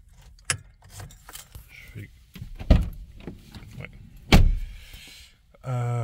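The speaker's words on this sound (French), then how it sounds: "je vais fermer la fenêtre pour..." A Nissan Micra 1.0 IG-T Xtronic's electric window closes. Scattered clicks and handling knocks come first, then a short, close motor whine at the end.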